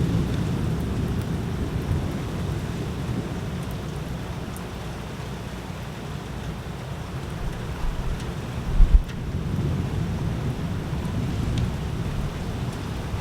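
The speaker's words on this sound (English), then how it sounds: "The rain came like out of nowhere." Heavy rain pours down steadily through a thunderstorm, with a low rumble of thunder running underneath and one sharp, close crack near the end, no voices.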